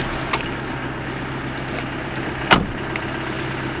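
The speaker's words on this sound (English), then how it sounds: "The engine's running" A parked car's engine idles with a steady low hum in the countryside near Milborne Wick, with a couple of brief sharp knocks or clicks standing out over the constant drone and no voices heard.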